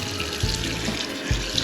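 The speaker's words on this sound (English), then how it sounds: "make sure you already have your sink faucet running" A kitchen sink faucet running hot water, a close, steady stream splashing into the basin with a couple of small gurgles.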